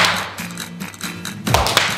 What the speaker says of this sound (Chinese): 拍手一下加兩下咯喎